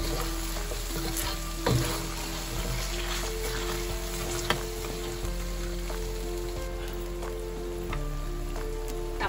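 Palm sugar and a splash of water sizzle in a pan, a quiet, continuous bubbling hiss with scattered pops and one louder clatter, no voices.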